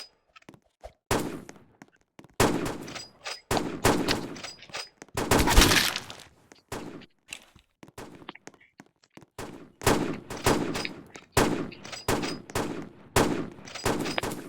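Gunfire from a first-person shooter video game: irregular loud bursts of rapid shots and short single cracks, separated by brief gaps.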